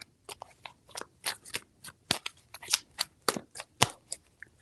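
Rapid papery riffling and snapping bursts come close up in quick clusters, like a deck of cards being shuffled repeatedly.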